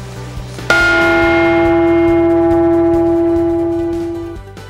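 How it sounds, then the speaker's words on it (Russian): A handmade Russian bell from a Vladimir region foundry is struck once, sounding a loud, clear tone with rich overtones that rings on and slowly decays over several seconds, alone and close. "Лично сами делаем каждый колокол. И потому они так красиво звучат."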